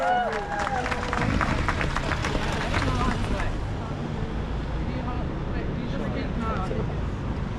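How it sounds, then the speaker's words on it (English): Loud, close applause from a crowd at an evening anti-racism protest: dense clapping mixed with cheers and chatter for about three seconds, then thinning into murmuring voices. "give them a massive round of applause"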